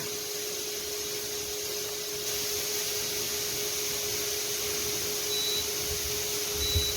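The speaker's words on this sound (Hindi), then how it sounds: "अपना एसी ऑन करते हैं" A kitchen air conditioner runs with a steady broadband whoosh and a constant tonal hum, stepping up slightly in level partway through as it switches on, with no talk.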